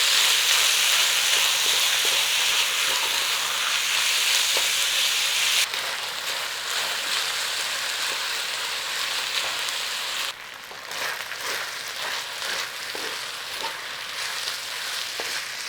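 Beef stir-frying in hot oil with cabbage for a black bean stir fry, a steady close sizzle and hiss that shifts and brightens as the pan is stirred, with no talking.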